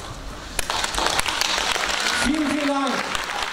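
Audience applause at a German-language poetry slam fills the room, a steady crowd patter running under a performer who speaks a few words of thanks over it.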